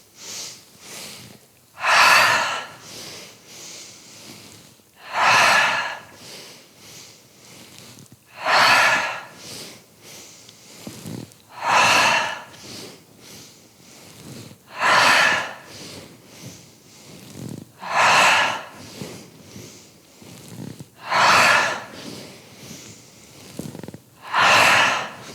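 Deep yogic breathing for stress release, with strong exhales pushed out through the mouth about every three seconds. The breaths are close and loud, with quieter inhales between them, and no talking.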